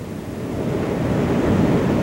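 Floodwater from the 1935 floods across New York, Pennsylvania and Maryland surges and rushes as a steady, dense roar with no pauses, heard on an old archival recording.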